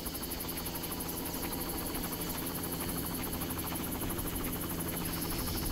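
Helicopter in the Far Cry video game, a steady loud rotor and engine drone with continuous rhythmic chopping that holds constant throughout, with no talking.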